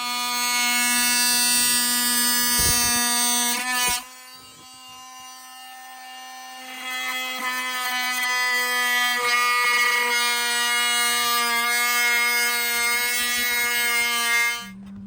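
A power sander drones steadily on wood with a high buzzing whine, briefly stopping and restarting partway through, running loud and close with no talk, while building a diorama cabin.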